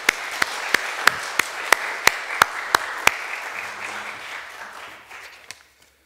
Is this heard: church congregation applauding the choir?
yes